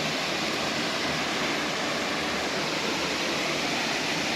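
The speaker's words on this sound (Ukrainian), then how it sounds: "Тут гребля і оцей водоспад." Steady, loud roar of a waterfall pouring over a dam in a canyon, a continuous broadband rush with no breaks and no voices.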